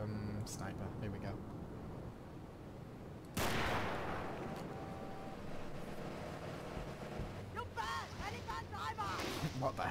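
A sharp sniper rifle shot cracks out in GTA 3, followed by a broad decaying blast and dense game noise, with more scattered impacts and clattering near the end; someone talks throughout.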